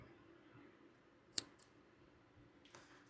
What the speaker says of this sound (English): Just a little snip.